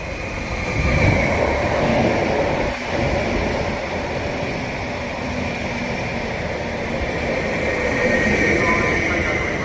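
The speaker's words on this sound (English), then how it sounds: "For the 1429 Greater Anglia service to London Liverpool Street, please stand back until the train has stopped." A Greater Anglia passenger train pulls into the platform at Stowmarket station. A steady low rumble and broad hiss run throughout at moderate loudness, with a faint voice in the background.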